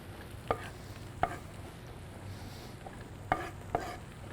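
Knife chopping smashed garlic on a cutting board in a home kitchen, four sharp isolated thwacks spaced irregularly over a low steady background hum, close and fairly quiet.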